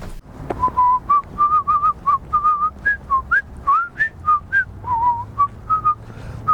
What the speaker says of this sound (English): Man, I suck at whistling.